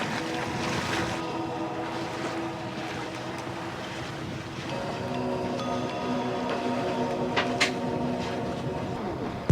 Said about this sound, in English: Such a good condition to be sailing, hoisting up the sails, letting them wide open